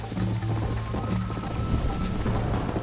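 Horse hooves clip-clop at a steady trot in the Red Dead Redemption video game, rhythmic close thuds over a continuous ambient hum, with a faint whinny at one point.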